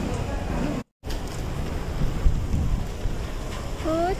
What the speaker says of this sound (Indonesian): Hujan di malam minggu, oh bukan, malam Sabtu guys, hujan.